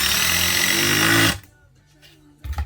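Power driver sinking a Beaverscrews screw into a weathered old timber batten, a loud, steady buzzing whine for just over a second that stops sharply, followed by near silence and a few faint knocks.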